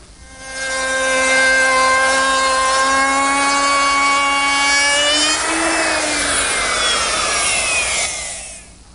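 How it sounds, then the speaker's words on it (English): Table-mounted router with a 1/2 inch bit making a final pass along a wooden table top edge: a loud, steady high-pitched whine that dips slightly as the cut loads, then winds down near the end, with no talk. "Now I'll lower the bit a little bit and make the final pass."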